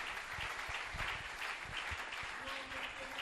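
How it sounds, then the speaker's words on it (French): A church congregation applauds steadily after a Bible reading at a French-language service, a dense, even wash of clapping that fills the whole short stretch, with a voice faintly audible beneath it. "On acclame pour la parole."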